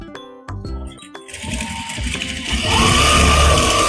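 A sewing machine stitches a salwar, starting with a few short bursts of whirring and clicking before running into a continuous, loud mechanical hum of steady straight stitching close by.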